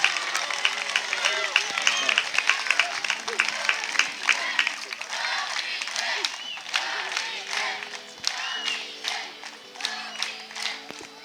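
A crowd at a tournament award ceremony in Salacgrīva, Latvia, applauds the event's best attacker, with scattered clapping and cheers mixed with lively chatter and shouting voices throughout.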